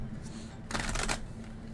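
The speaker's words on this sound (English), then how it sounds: "that's a good shuffle." A quick shuffle of a tarot deck, a brief dense riffle of card flutter lasting about half a second midway, close and soft against a faint low hum.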